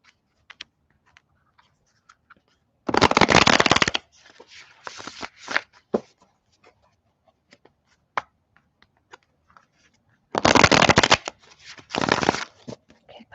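Tarot cards are shuffled up close in two bursts of rapid riffling, one near the start and one near the end, with lighter card taps and slides in the quiet between them.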